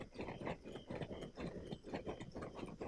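A horse in the Black Desert Online video game, faint rhythmic clip-clop of hooves at a steady trotting pace, quiet and somewhat distant, with no voices.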